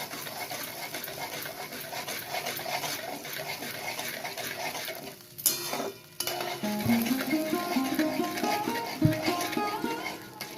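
Sour yogurt is stirred into a frying katla fish curry, with a continuous wet sizzle and scraping under light kitchen noise and a few brief utensil knocks near the end.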